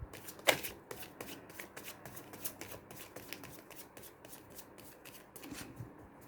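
Tarot cards being shuffled by hand, a steady run of crisp riffling flicks and soft slaps, close and continuous with no talk.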